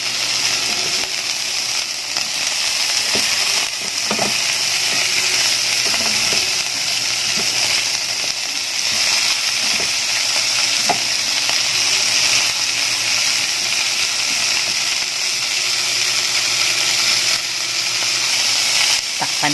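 String beans frying and being stirred in a pan for adobong sitaw, a continuous bright sizzle with occasional scraping clicks of the utensil, steady throughout and close up.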